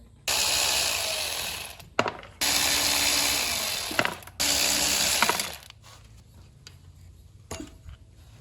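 A ratchet with a 10mm socket turns the crankshaft of a Honda 420 engine, giving three long bursts of rapid, loud clicking separated by short pauses, then quieter scattered clicks and taps.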